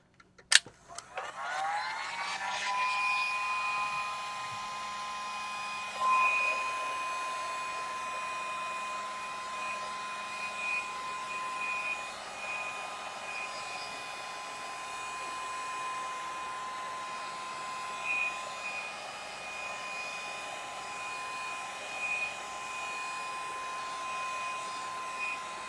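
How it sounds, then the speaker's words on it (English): A heat gun blows in a steady, loud whir aimed at a watercolor galaxy painting to dry it, with a sharp click at start-up and a constant high whine that holds for the whole stretch. "let me heat gun"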